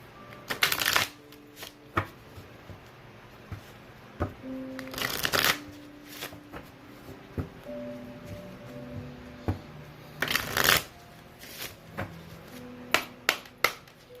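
A career oracle card deck is shuffled in several loud, close riffling bursts, broken by sharp taps and clicks of cards being squared and set down, with faint tones in the background.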